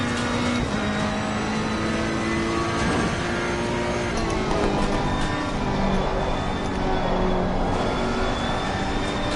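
Ferrari race car engine in Assetto Corsa Competizione at Kyalami: a steady, loud high-pitched engine drone held at high revs for the whole stretch, with shifting tonal harmonics and no voice.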